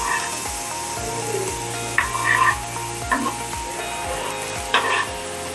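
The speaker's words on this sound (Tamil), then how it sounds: "வெங்காயத்தை பொடியாக அரிஞ்சு போடணும்." Finely chopped onion fries in a pan while a shark puttu dish is cooked. It is a continuous crackling sizzle with a few sharper bursts of stirring or spattering, and no one talks over it.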